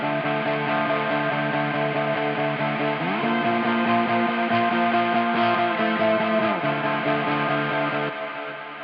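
Black metal guitars played through an L12X amp with Valhalla Delay give a dense, continuous crunchy distorted wall of sustained chords with a chorused, echoing wash. The chord shifts around the middle and the sound stays loud throughout, with no voice.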